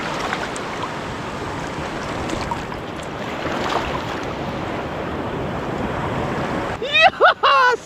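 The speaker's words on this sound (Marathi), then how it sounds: "आता हे समुद्राची लाट यांना घेऊन जाईल समुद्रात." Sea waves washing over the beach at Guhagar on the Konkan coast during a turtle hatchling release, a steady loud rushing surf with wind, followed by people's voices near the end.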